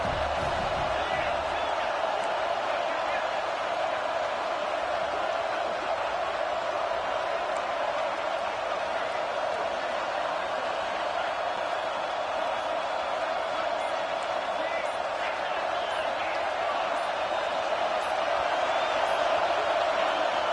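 Loud, sustained roar of a college football stadium crowd building during a big moment in a game against Alabama, a dense wall of cheering and whooping that holds steady throughout.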